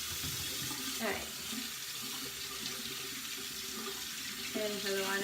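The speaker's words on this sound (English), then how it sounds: "Waiting for the water to get warm again." A bathroom faucet runs water steadily into a sink while it warms up, a constant hiss with faint voices and small clinks over it.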